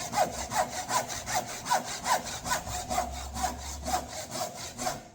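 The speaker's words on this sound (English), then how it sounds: "all that's left to do is cut down to the next shoulder line." A hand saw cuts down through timber toward a shoulder line for a mortise and tenon joint, with about a dozen even push-pull strokes rasping close and loud in a steady rhythm, and no voices.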